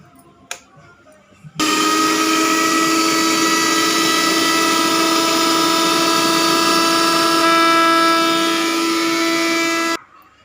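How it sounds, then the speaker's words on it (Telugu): Electric mixer grinder grinding ginger and garlic, starting abruptly and running as a loud, steady whining motor roar with a strong pitched hum for about eight seconds before cutting off sharply. "ఇక్కడ అల్లం వెల్లుల్లి మిక్సీ పడుతుంది"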